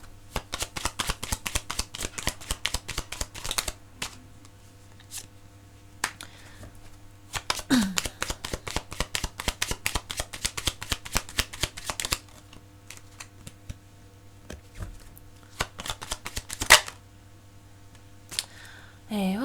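Tarot cards shuffled by hand in rapid riffling bursts, close and crisp, with pauses between rounds and scattered flicks and taps.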